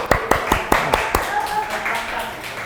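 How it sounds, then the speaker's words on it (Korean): A short burst of scattered hand claps during a church Sunday service, about half a dozen sharp claps close together, fading out as voices murmur underneath. "우리 박수."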